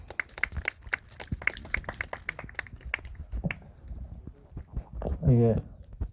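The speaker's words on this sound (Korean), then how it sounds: "박수로 맞아주시면 좋겠습니다" A small group at a graveside memorial claps in sparse, fairly even strokes, thin and a little distant, before a voice briefly takes over at the end.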